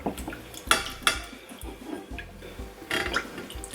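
A teaspoon of cornstarch being stirred into a homemade anti-wrinkle face mask mixture, with a few sharp clinks of a spoon against a bowl and soft scraping between them, close and alone.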